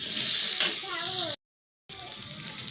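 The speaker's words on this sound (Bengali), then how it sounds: "আলুগুলো ভেজে নেব।" Potatoes fry in hot oil left over from frying hilsa fish, giving a steady, loud sizzle with a brief stir partway through and a short gap before the crackling resumes.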